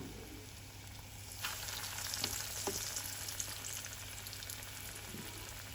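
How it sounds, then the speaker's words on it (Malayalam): Potato and chicken snack balls frying in hot oil give a steady sizzle with crackling pops and brief stirring noises, close by and continuous, with no talking. "അങ്ങനെ തന്നെ നമുക്ക് മുഴുവൻ നമ്മുടെ ബോളുകളും പൊരിച്ച് മാറ്റാം"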